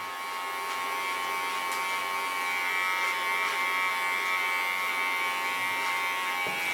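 An electric hair clipper buzzes steadily and close up while cutting long hair down into a bob, a continuous motor hum with slight shifts as it moves through the hair.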